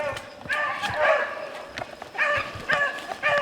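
Hunting dogs bay and yelp while chasing a rabbit outdoors, in repeated bursts of bright barking that come in uneven clusters at moderate distance.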